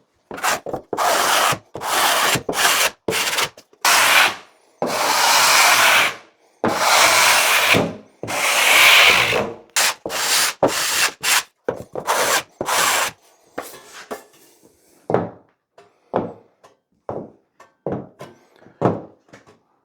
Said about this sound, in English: So I'm using a metal 250mm wide trowel.